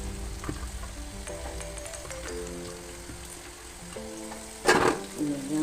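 Chopped large onions fry in a pan for a dish of chicken bones and tapioca, giving a steady close sizzle with scattered spoon scrapes and a louder stirring burst near the end.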